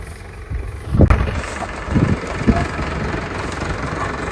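A tractor engine idles with a steady low rumble, a few louder revving bursts near the start, then settles into an even drone.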